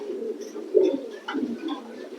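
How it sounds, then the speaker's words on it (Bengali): A racing pigeon, a male, coos close by in a few soft, low, throaty rolls with brief gaps between them. "আর একটা এই যে দীপু দেওয়ানের কবুতর"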